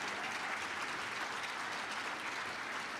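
An audience at a keynote by Billy Taylor in Iowa breaks into sustained applause, an even, steady roar of many hands clapping that holds throughout at moderate volume.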